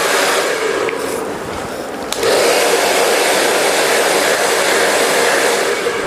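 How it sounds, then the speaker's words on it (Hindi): A hair dryer blows steadily while a brush works through a feather-cut hairstyle, the airflow softer at first and then jumping to a louder, constant roar for most of the stretch, close and with no one speaking. "आगे की तरफ ब्रश को रखना है, पीछे से ड्राई करना है।"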